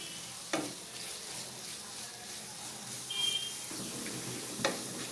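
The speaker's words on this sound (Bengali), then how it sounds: "পেস্ট ব্রাউন কালার করে ভেজে নিয়েছি" Spice paste for a fish curry frying in a pan, a soft steady sizzle with a few clinks of a spoon stirring, close by and fairly quiet.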